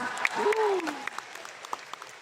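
Applause from an audience at a leadership training meeting in Kuala Lumpur, heard as a dense patter of claps with scattered sharper slaps, following a brief voice at the start.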